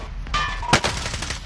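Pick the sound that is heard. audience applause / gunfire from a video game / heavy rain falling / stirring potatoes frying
gunfire from a video game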